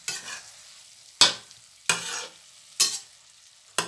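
Bean sprouts and tofu being stir-fried in a home kitchen, with four loud spatula scrapes and tosses at regular intervals over a steady close sizzle, no talking.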